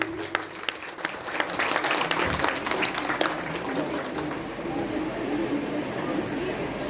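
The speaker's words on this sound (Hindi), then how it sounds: "जोरदार तालियां प्लीज" Loud, steady applause from an award-ceremony audience as a trophy is presented, dense clapping filling the whole stretch with faint crowd murmur underneath.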